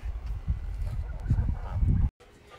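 Geese and ducks resting in the shade on a hot California farm give a few short, close honks over a low, muffled background, with the sound cutting off abruptly near the end.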